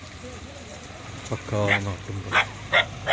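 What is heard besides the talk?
dog barking at a house outside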